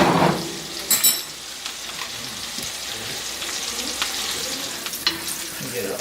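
Steak sizzles and fries in butter and oil in a pan, giving a steady close crackle throughout, with brief clinks and scraping of utensils near the start and end.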